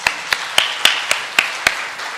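Applause in a church service comes as evenly spaced, rhythmic claps, about four per second. They are crisp and moderately close over a quiet room.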